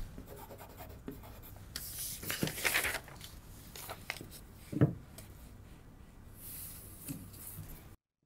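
A pen or marker writing a fold marking on a paper sewing pattern for a reversible sweatshirt, giving soft, close scratchy strokes in short irregular bursts on a quiet background.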